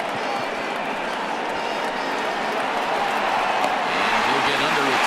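Stadium crowd from MLB The Show 20 at a Blue Jays vs Red Sox game, a steady roar of cheering that swells slightly toward the end, with a commentator's voice talking over it.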